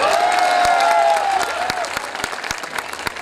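Audience at a Hindi poetry recital (kavi sammelan) breaks into loud, sustained applause with rhythmic clapping that gradually thins out, while a voice carries briefly over the start.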